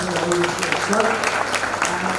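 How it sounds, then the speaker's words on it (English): Audience applause following a corporate panel discussion on core sector companies at a training program event, a steady, dense clapping wash lasting throughout with some talk mixed in. "Kindly give the round of applause."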